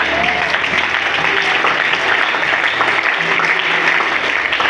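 A church congregation at a special gathering breaks into loud, sustained applause, a dense wash of clapping that holds steady with some voices mixed in.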